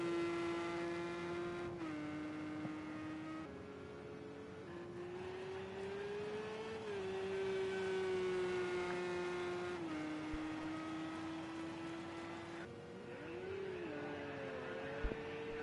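A Porsche Supercup race car engine in a racing video game revs steadily with a sustained whine that rises and dips in pitch, loud and continuous throughout, with no talking.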